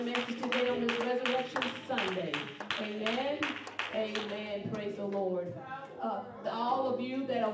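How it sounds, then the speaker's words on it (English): A church congregation claps in praise at an Easter Sunday service, steady rhythmic hand claps running beneath loud, sustained singing voices throughout. "give God a hand clap of praise"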